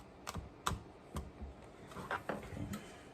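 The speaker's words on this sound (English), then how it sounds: "So they want me to finely chop the parsley as is." A knife chops fresh parsley, stems and all, on a cutting board with several crisp, evenly spaced taps close up, followed by a quicker cluster of lighter cuts.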